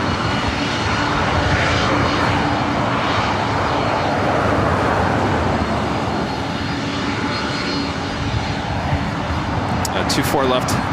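A loud, broad airplane engine roar at LAX airport fills the scene continuously, heavy and close, with radio chatter from air traffic control running underneath.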